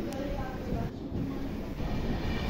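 A passenger train on a long-distance journey to Prayagraj rumbles along steadily, with a continuous low clatter and hum heard from inside the carriage at moderate level.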